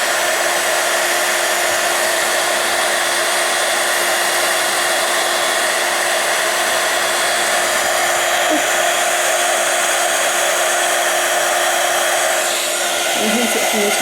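An embossing heat tool blows a steady, loud, close whirring hiss over a stamped card as the embossing powder melts, running without a break for the whole stretch.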